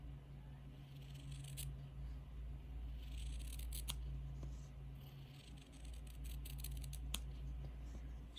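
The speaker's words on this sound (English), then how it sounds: "Should be using the good fabric scissors for this, but I'm not" Household scissors snip fabric in scattered sharp clicks and crisp cuts over a low steady hum, quiet and close.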